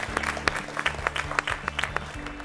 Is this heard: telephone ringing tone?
no